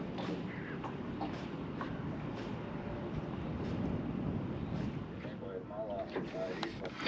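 A boat passing on a lake near an island, heard as a steady broadband rumble under wind noise, with faint voices toward the end.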